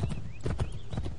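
Horse hooves clip-clop in a quick, even rhythm in the Assassin's Creed 3 video game, close and fairly faint, with no talk over them.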